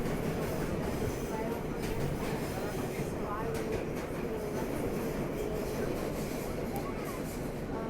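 An R160 E subway car running between stations from Queens toward Manhattan, with a constant loud rumble, rhythmic clickety-clack of wheels over rail joints and faint wheel squeals, and a voice talking over the noise.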